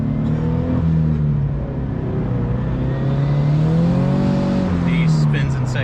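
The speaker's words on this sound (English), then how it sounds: "He spins in second gear with the cold tires" Toyota GT86 turbo in second gear spinning its wheels on cold tires, a loud, strained engine note rising and falling with a whirring undertone, heard from inside the car.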